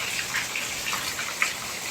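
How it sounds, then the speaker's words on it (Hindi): Heavy rain pours steadily onto a veranda on a hot afternoon, a dense, even wash of hiss with faint scattered droplet splashes and no voices. "बहुत तेज़ बारिश हो रही है।"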